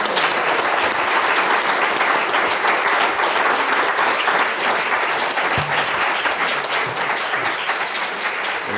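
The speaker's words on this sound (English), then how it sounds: "Give them a round of applause" Sustained, dense applause from an audience thanking panelists at a community discussion event, steady and loud throughout with no pauses.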